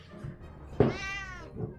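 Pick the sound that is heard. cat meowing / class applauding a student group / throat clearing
cat meowing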